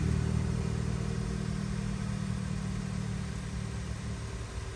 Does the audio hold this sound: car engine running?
yes